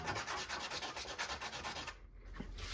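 Fine sandpaper rubs a Holton H181 trombone slide part in quick, rhythmic back-and-forth strokes, close and fairly quiet, pausing briefly near the end before resuming.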